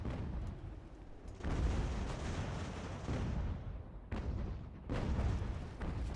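Cannons fire in an American Revolution battle video game, heavy booms arriving in several separate bursts with rumbling decay between them, no talking over the blasts.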